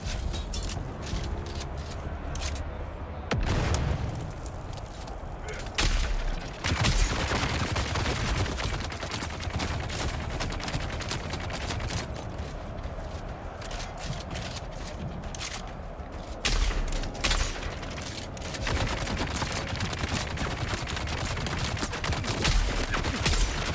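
Sustained gunfire in the Dune Awakening video game, dense rapid bursts of shots crackling almost continuously with brief lulls, fairly loud and close, with no talking.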